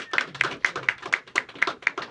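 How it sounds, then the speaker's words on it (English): Clapping hands at a Marine Corps recruiting station ceremony for new Army, Navy and Marine recruits, with a steady run of sharp, evenly spaced claps from a small group, close and fairly loud. "Applause is appropriate."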